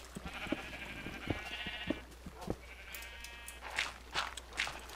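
Sheep on a farm in the Minecraft video game bleat several times, the drawn-out wavering calls coming one after another over soft background sounds and faint clicks, with no talking.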